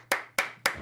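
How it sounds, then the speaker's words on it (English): Three single sharp hand claps land at an even, unhurried pace, each crisp and close, with brief quiet between them and no voices. "There's the applause."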